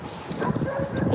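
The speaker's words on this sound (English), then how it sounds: "Dogs are going crazy up there." Dogs bark and yip excitedly somewhere uphill near a hotel in Pasadena, California, a short burst of overlapping barks mixed with nearby talk.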